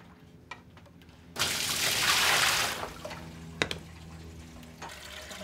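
Water from a sink tap flushing through a reverse osmosis filter membrane, a sudden steady rushing hiss that swells then settles into a softer trickle with a few drips and clicks, close by with no talk.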